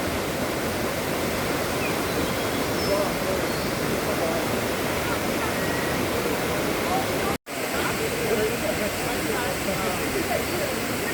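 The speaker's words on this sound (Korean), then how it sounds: "폭포도 보입니다." A waterfall on Mount Emei in China gives a steady, dense rush of falling water, constant and fairly close, with one brief dropout partway through.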